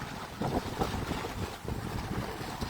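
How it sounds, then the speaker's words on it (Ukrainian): Steady wind roaring and buffeting against the microphone in Lviv, a constant low rumbling rush with no voices. "Напевно, зараз дуже шумить, вітер дує."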